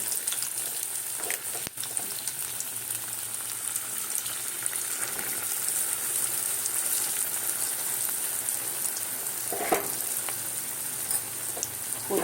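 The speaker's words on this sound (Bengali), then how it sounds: "চলো এইবারে দিতে থাকবো, তেলটা গরম হয়ে গেছে।" Pitha batter frying in hot refined oil, a steady dense sizzle and crackle throughout, close and even, with a couple of brief clicks and no voices.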